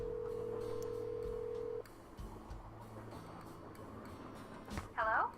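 Phone dialing in Nancy Drew: Last Train to Blue Moon Canyon: a steady tone held for under two seconds then cut off, followed by faint low hum, quiet clicks and a brief voice near the end.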